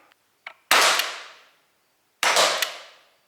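A Hellboy CO2 .177 air pistol fires two sharp, loud shots about a second and a half apart, each with a short ringing decay, preceded by faint clicks of handling.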